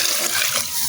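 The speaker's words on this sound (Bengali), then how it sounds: "এবার দিয়ে দেবো আমি 3 কাপ পরিমাণে পানি" Water poured in a steady stream into a cooking pot of braised chicken on a village stove, a continuous close splashing gush with no pause and no talk.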